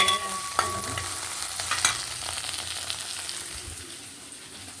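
Crushed garlic fries in oil in a pan with a bright, crackling sizzle, with a few sharp clinks and scrapes of stirring near the start before the sizzle settles and fades slightly.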